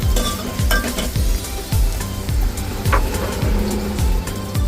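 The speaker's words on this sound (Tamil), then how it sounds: "அடுத்து வெட்டி வச்ச வெங்காயத்தை போட்டுக்கலாம். வெங்காயம் நல்லா வதங்கட்டும்." Chopped onions sauté and sizzle in a pan, with a spoon scraping and stirring in a steady rhythm of repeated strokes against the metal under a constant frying hiss, close and fairly loud.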